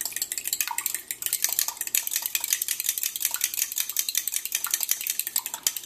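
Eggs and milk being whisked in a bowl for a crawfish omelet, a rapid continuous clatter of a utensil beating against the bowl's sides, close and steady with no talk.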